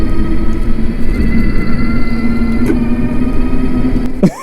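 A mid-drive e-bike motor whines steadily at speed, a sustained close tonal drone over rumbling wind and road noise, with the pitch sliding briefly near the end.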